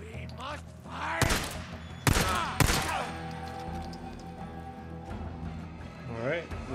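Gunfire in the video game Days Gone, three loud sharp shots spaced about a second apart, followed by a droning hum and a voice in the background.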